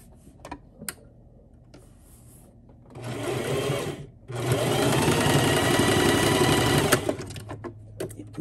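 A sewing machine stitches fabric for a fluffy dog bow tie, whirring in a short run and then a longer steady run, with a few quiet ticks and handling clicks between.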